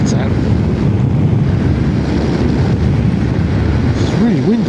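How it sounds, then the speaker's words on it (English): Strong wind buffets the microphone beside the sea at low tide, a loud continuous roar with rumbling gusts and no let-up. "It's really windy."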